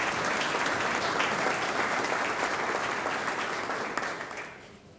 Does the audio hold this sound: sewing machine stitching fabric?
no